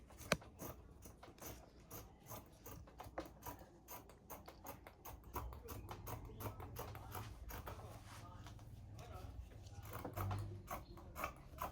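Scissors cut through folded fabric for a skirt pattern, a string of close, rapid crisp snips and blade clicks repeating steadily with faint background rumble.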